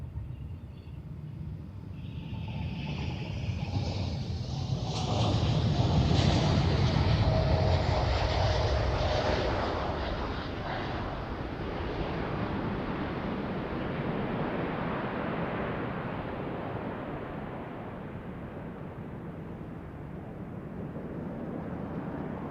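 A jet airliner takes off at Amsterdam Schiphol Airport, its engine roar swelling to a loud peak and then fading slowly into the distance as a long, steady rush.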